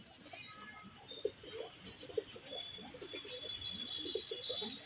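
Pigeons cooing softly in a loft, with repeated low throaty coos in uneven bursts, faint chirps and a steady background hiss.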